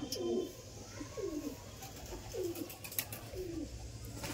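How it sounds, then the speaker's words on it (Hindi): Rampuri pigeons coo softly nearby, a series of about four or five rolling coos spaced evenly over a faint background hum. "क्वालिटी देखें भाई कबूतर की"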